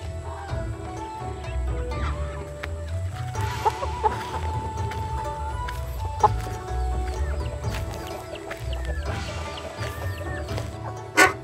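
Native chickens clucking inside a newly built coop, scattered short clucks and calls at moderate distance over a low ambient rumble, with occasional thumps and no talking.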